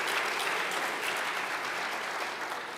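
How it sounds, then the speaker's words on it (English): A church congregation claps together in a warm, steady wash of applause that fills the room and gradually tapers off toward the end. "Yeah, you can clap for that."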